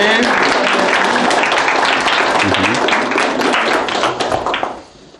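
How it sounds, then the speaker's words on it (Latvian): Loud, dense applause from the audience at a televised school quiz final for 5th–6th graders, sustained for a team receiving a prize, then quickly dying away at the end. "Apsveicam komandu! Aplausi!"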